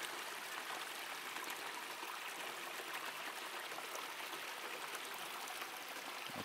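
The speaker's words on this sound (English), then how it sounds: "Now you can even tell by the sound that water is traveling a lot slower." Water rushes steadily down a Keene Mini Max gold mining sluice highbanker concentrator, a continuous even hiss and splash with no break and no talking.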